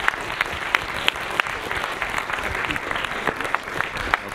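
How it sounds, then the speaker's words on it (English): Audience at a university debate claps steadily for several seconds, a dense, even wash of applause from a room full of people with a few sharper individual claps standing out. "So if you join me in giving Dr. Haynes a round of applause, please."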